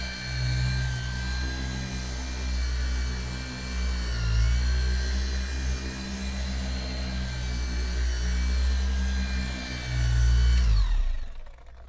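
A 12mm-orbit orbital polisher works over a clear vinyl convertible-top window with a steady, loud motor drone and high whine that holds nearly unchanged, then cuts off abruptly near the end.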